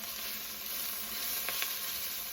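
Steady sizzling from a pot of pinto bean soup base cooking on the stove, with a couple of faint scrapes of a spoon stirring partway through; constant and fairly soft, no voices.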